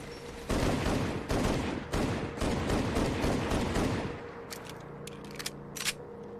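Automatic gunfire in a heavily modded Fallout game: loud rapid bursts of shots repeat for about four seconds, then give way to quieter ambience with a few sharp, distant cracks.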